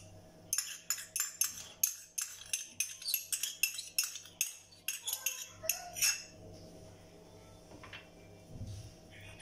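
A metal spoon scooping chili garlic sauce onto potatoes, tapping and clinking against a bowl in a quick run of sharp knocks that then thins to a few softer scrapes, close and quiet.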